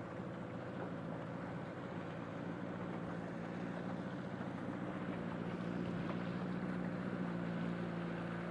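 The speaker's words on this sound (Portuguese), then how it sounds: "Vai ligar o motor." A boat motor runs steadily at low, even revs, a quiet constant drone with no talk and no change across the whole stretch.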